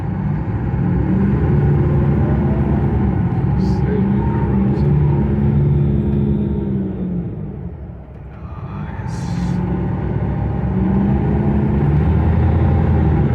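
Deep, steady engine rumble of an MBTA Red Line shuttle bus idling and pulling, loud and close, with a short dip in the middle and a brief spoken word.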